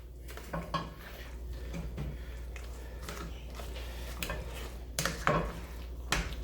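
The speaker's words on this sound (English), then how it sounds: "I'm just going to mash them till they're all uniform" Boiled potatoes being mashed with butter in a pot, producing repeated soft squelches and knocks of the masher against the pot, with a louder clatter of metal near the end.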